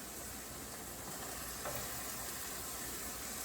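Sweet yellow onion and celery sizzle steadily in a pan over medium heat, a soft, even hiss of frying that holds without pause and sits fairly quiet and close.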